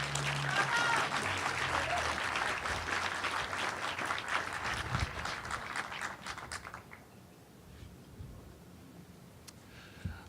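Audience applause welcomes Mayor Tate at the Chrysalis opening in Anaheim, a dense burst of clapping that starts loud and gradually thins to scattered claps before fading out, with faint speech beneath.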